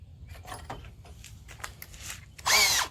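After some quiet handling and clicks, a power drill whirs into a loud, high-pitched grinding burst near the end, drilling metal while installing a Warn winch on a Jeep JK.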